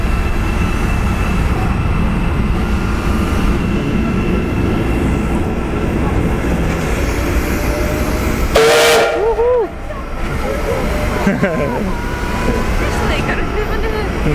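A 70-year-old retro steam train sets off from a station as a loud steam whistle blasts briefly over a constant roaring hiss of steam, with people talking nearby.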